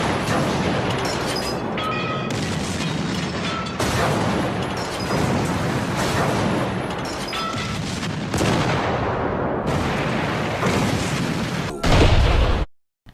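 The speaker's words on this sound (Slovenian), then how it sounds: "Prvi top je ustrelil." Artillery cannons firing during a World War I battle on the Soča front: dense, continuous booming and crackling blasts layered over each other, loud and close, ending in a heavy thundering burst before sudden quiet.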